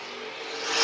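A vintage race car roars along the track at the Southern Vintage Nationals in Dillon, South Carolina, its engine a steady whir that swells louder and rises in pitch as it draws near.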